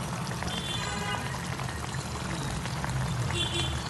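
Ginger garlic paste drops into beef liver frying in a pan, giving a continuous crackling sizzle with soft wet splatter throughout, close and fairly loud, with no voices.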